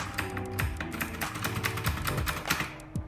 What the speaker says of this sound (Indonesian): itulah emang yang paling kita suka banget dari suara keyboardnya